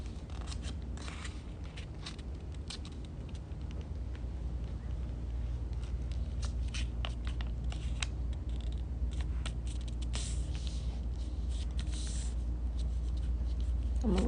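Paper is folded and creased into an origami airplane at a children's craft session, a close series of soft scraping rubs and crinkles as the folds are pressed down.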